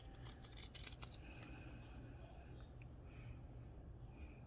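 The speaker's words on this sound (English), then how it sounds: "we're going to trim this down with the pinking shears" Pinking shears trim a sewn fabric face mask, giving a quick cluster of close, crisp snips in the first second and a half, then only a low steady room hum.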